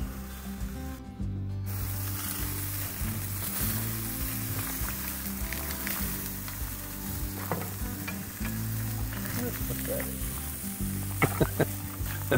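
Hamburger patties sizzle and crackle on a kamado grill outdoors in the mountains, a steady close frying hiss with occasional sharper pops and brief scraping sounds.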